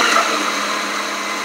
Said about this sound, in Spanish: Vamos a licuar.